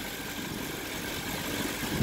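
The LS1 V8 engine of a 1998 Chevrolet Corvette with a K&N air filter idles smoothly and quietly at a steady low rumble, close by, with no talking.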